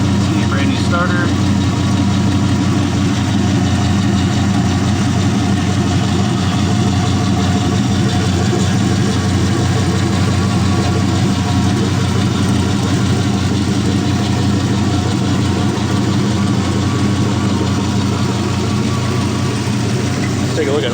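Idling of a 4.8L Gen3 engine as it warms up, a loud, constant close rumble over the full length while someone talks over it.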